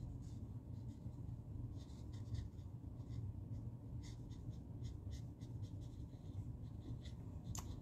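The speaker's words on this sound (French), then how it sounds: "je vais colorier mon sapin" A marker colors in a stamped Christmas tree on a handmade Stampin' Up! Christmas card, making soft, steady scratchy strokes that run close and continuous over a low background hum.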